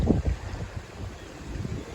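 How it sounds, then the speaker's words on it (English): Strong gusting wind buffets the microphone outdoors, a loud low rumble with bursts at the start and steady blustery noise throughout. "It's windy, that's why."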